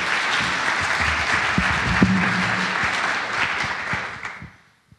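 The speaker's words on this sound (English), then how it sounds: "so give him a round of applause." Sustained applause from an event audience at a science center gathering fills the space at steady loudness, with a few louder claps standing out, before fading out near the end.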